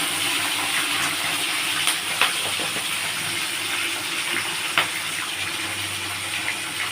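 Prawns sizzle in hot oil alongside potatoes, a loud, steady hiss and crackle with a few sharper pops and no talk.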